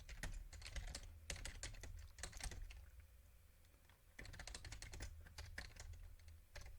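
Rapid keystrokes on a computer keyboard as an app name is typed into a terminal, coming in two dense bursts with a short pause between them, close and clear with no talk.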